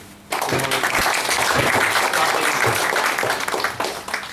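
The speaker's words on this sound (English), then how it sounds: "let's give ourselves a round of applause for" Sudden burst of applause from an audience of learning and development leaders at a gathering in New Delhi, sustained loud clapping for several seconds before it begins to taper off.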